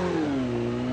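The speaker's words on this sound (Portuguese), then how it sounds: "O Axon tá de motinho" Motorcycle engine in the Call of Duty Mobile battle royale game, revving with a steady mid-pitched drone that slides slightly lower over one continuous second, loud and close with no talking.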